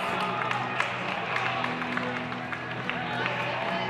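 A track crowd at an indoor 5K race cheers and claps in a continuous wash of noise, with a commentator talking over it the whole time.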